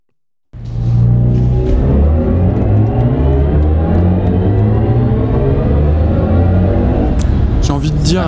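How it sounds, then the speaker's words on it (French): After a moment of silence, an electric sports car's drive whine kicks in and climbs steadily in pitch, loud and sustained for several seconds. "la vraie troisième sonorité de voiture électrique"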